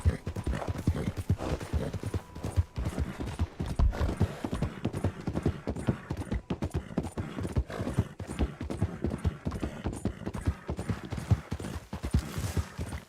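Video game horse hooves clip-clop in a quick, steady rhythm for the whole stretch, close and distinct, with no talking.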